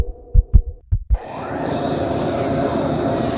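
Heartbeat sound effect from an animated horror story: four heavy low thumps in two quick pairs, loud and close, then cut off by a steady low droning rumble that fills the rest.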